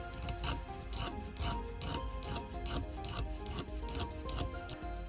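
Rhythmic rasping strokes of a hand file scraping back and forth on the edge of a metal coin, about a dozen quick, even passes close up.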